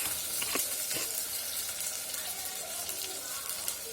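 Chopped onions sauté in a pan for crab curry, a soft continuous sizzle with faint hissing, a couple of light scrapes early on and an even, moderately quiet level throughout.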